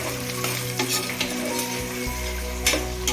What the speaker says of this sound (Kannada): ಈಗ ಇದು ಸ್ವಲ್ಪ ಎಣ್ಣೆಯಲ್ಲಿ ಚೆನ್ನಾಗಿ ಫ್ರೈ ಆಗಬೇಕು.